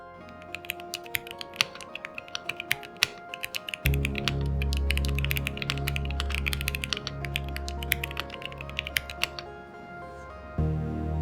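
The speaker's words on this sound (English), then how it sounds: "The result is a satisfying, crisp sound that accompanies every press, adding a rich, auditory dimension to your typing." Keystrokes on the slate75, a 75% mechanical keyboard: rapid, crisp clicking close to the listener, with a steady electronic hum or music under part of the typing and no speech.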